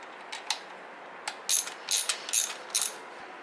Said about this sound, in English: And then just tighten down your floorboard brackets.